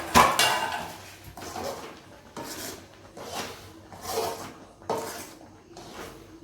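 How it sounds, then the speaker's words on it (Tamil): A spoon scrapes through aval laddu mixture in a pan with about six rhythmic strokes, each a close, gritty rasp rising and fading, with no voices. "அப்படியே கொஞ்சம் நேரம் கலக்கி விடலாம்"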